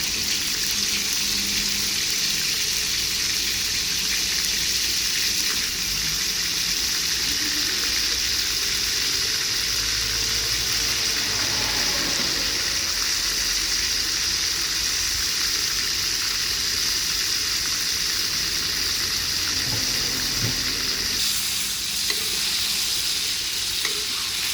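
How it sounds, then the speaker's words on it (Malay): Chicken liver and gizzard fry in hot oil in a wok, a loud continuous sizzle with stirring noises running for the whole stretch and no talk over it. "Bila minyak panas, kita goreng dulu hati pedas ni."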